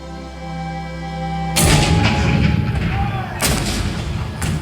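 After a low hum, a heavy cannon blast erupts into a rumbling barrage, followed by a second booming shot, loud and close, depicting the 1861 bombardment of Fort Sumter.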